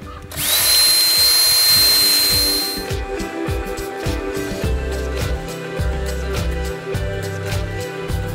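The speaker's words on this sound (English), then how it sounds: "I just grabbed a thin drill bit, it's an 1/8 inch, and I'm just gonna drill some random holes in these" A drill with a thin 1/8 inch bit bores holes in roofing material on a tiny house build, first a loud, high whine that spins up and then cuts off, followed by quieter knocks and handling sounds.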